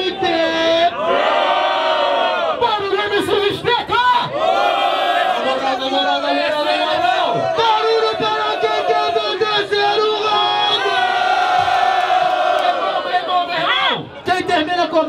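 A crowd at a street rap battle in São Gonçalo cheers, whoops and shouts loudly for several seconds, with a host's amplified voice calling over the noise.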